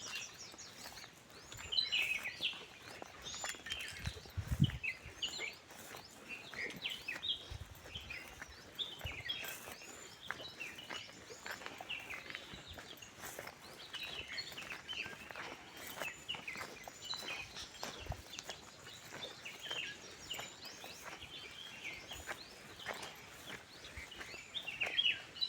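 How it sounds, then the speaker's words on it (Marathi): Birds chirp around an old house in Dodavali village near a temple: faint, scattered tweets and calls over a quiet outdoor background, with occasional soft footsteps and pattering nearby. "पाखरांचा आवाज मस्त ऐकायला येतो"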